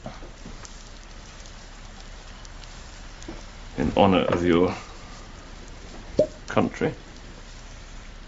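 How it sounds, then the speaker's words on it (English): Steady rain falls with a constant hiss beneath an indoor scene in a period drama, while someone speaks briefly in a few short bursts over the continuous patter. "when the rain has eased"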